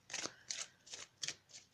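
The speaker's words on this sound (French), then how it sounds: "On va tirer maintenant une carte des maîtres ascensionnés." Oracle cards are shuffled by hand in five quick, crisp riffling bursts, close and fairly soft, with brief pauses between them and no talking.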